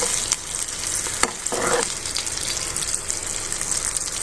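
Chillies frying in a pan, a continuous hissing sizzle with a few brief scraping stirs and a short burst of bubbling partway through, close and fairly loud.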